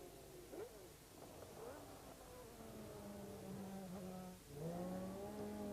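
A 1990 McLaren Honda Formula One car driven fast in Spanish Grand Prix qualifying, its high whining engine rising and falling through gear changes, with a broad steady roar underneath and a brief dip before the pitch climbs again.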